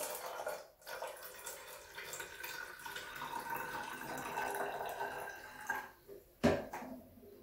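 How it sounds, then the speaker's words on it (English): Multi-purpose vinegar pours from a jug into a spray bottle beside a bathtub, a faint continuous trickle with gurgling, broken by a brief pause and a couple of soft knocks near the end. "So we are just going to pour some in here into the spraying bottle."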